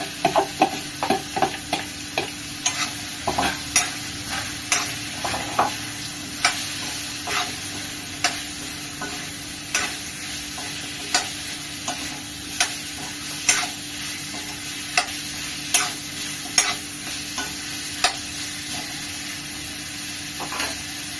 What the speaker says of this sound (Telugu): ఇది కొంచెం ఇంత ఫ్రై అవుతుంది లైట్ గా